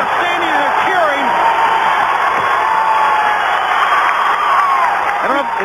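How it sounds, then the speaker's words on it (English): A 1997 WCW Nitro wrestling arena crowd cheers and roars continuously, a dense loud wash of shouts and whoops with some clapping, while commentators talk over it. "The fans are standing and they're cheering."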